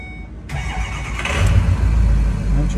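A Ford 6.0 diesel engine, just back from injector repair, cranks briefly and fires, settling into a loud, steady, rumbling idle close by, with no talk over it.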